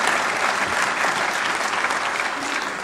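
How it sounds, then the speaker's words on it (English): An audience applauds steadily at the grand finale ceremony of a national science week event. The clapping is dense and continuous, at moderate loudness, with no voices over it. "All the partner organizations and coordinators at 75 locations deserve a round of applause"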